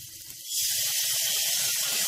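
Masala frying hard in hot oil for chicken haleem, a steady loud sizzling hiss that swells after a moment and holds without letup, with no talk.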